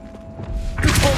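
A Bombarda blasting spell in Hogwarts Legacy: a dull thud builds into a loud, bright burst of crackling impact near the end, heard alone without talk.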